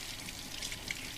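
Running water rinses a makeup brush, a soft steady hiss of flowing water, close and faint, lasting about a second with no voices.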